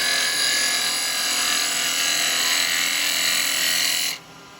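A bowl gouge cutting a spinning wooden workpiece on a lathe makes a loud, steady hissing shear for about four seconds, then stops abruptly, leaving a faint motor hum.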